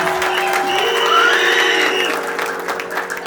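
Guests at a Congolese wedding applaud and cheer together, a dense burst of clapping from a crowd with tonal whistles or ululation rising above it.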